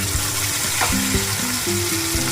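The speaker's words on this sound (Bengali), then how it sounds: "ফোড়নটা একটু নেড়ে চেড়ে দিয়ে মশলাটা যেটা আমি পেস্ট করলাম ওই মশলাটা" Ground spice paste dropped into a tempering of hot oil for a Bengali jackfruit curry, a loud close sizzle and spatter with stirring sounds, no talk.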